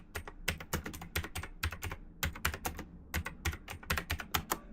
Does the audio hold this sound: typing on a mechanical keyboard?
yes